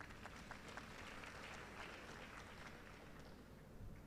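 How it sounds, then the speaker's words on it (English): An audience at a university matriculation and welcome ceremony gives a round of applause for a visiting official. The clapping is faint and distant but steady throughout. "Please give him a round of applause."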